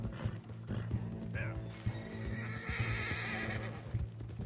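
Horses in Red Dead Redemption 2 gallop in a steady clip-clop rhythm under game music, with a whinny and near, loud hoofbeats throughout a chase.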